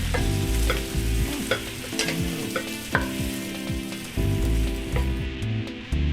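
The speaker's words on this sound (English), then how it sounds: "let it cook, stirring occasionally, until the pumpkin turns from orange to yellow" Pumpkin sizzling in a hot pan while a utensil scrapes and stirs it in repeated strokes, close and steady, with no talking.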